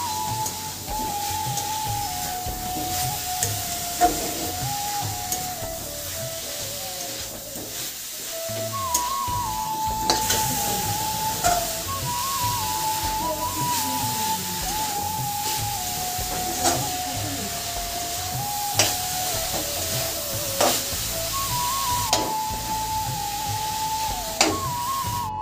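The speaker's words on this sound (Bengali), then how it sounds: "নাড়ছি যতক্ষণ না পাক আসে এটা" Coconut filling is stirred in a hot pan, giving a steady sizzling hiss broken by repeated scraping strokes. The sound stays moderately close throughout, with sharp clicks and scrapes at intervals.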